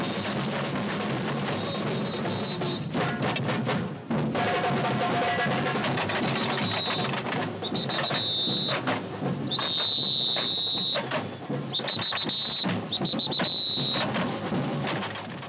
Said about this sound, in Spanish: Ese es el sonido de la batucada ahí, con todos esos instrumentos, con el agogó, con la cuica, con los tambores, con los bombos, con las cajas